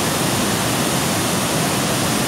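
Kaeng Sopha, a large waterfall in Wang Thong district, Thailand, gives a loud, steady, dense roar of falling water that fills the whole short stretch without a break, and no voices are heard.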